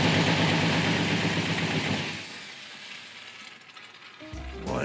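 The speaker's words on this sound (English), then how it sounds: "Well, the motor runs. It runs." A knocking car engine runs loud and rough with a pulsing rumble, then fades down to a quieter, uneven state before a brief clunk near the end.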